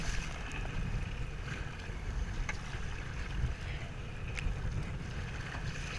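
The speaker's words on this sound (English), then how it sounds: "Here comes the big waves." A boat pushes through big, choppy waves coming from several directions, with steady loud rumbling water and wind buffeting the microphone throughout, with occasional sharper splashes.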